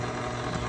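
A stand mixer fitted with a paddle attachment runs on its low setting, giving a steady, even motor hum with no talking over it.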